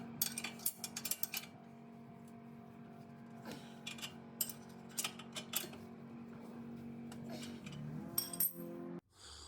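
A 24-inch crescent wrench and adjustable wrench work on a Honda Civic front wheel bearing, with scattered metallic clinks, ratcheting clicks and tool taps over a low steady hum, fairly quiet and close.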